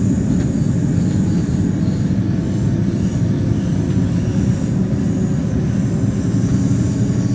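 A DB BR612 train in Train Sim World 2, on the Tharandter Rampe, runs with a loud, steady low rumble and continuous wheel and track noise, unbroken and with no voices.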